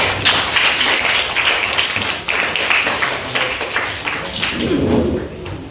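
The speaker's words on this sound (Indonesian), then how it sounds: "Beri tepuk tangan." A classroom of students claps in applause during an Islamic jurisprudence lesson on zakat, brisk dense clapping that stays fairly loud and even throughout, with a few uneven dips and a brief voice near the end.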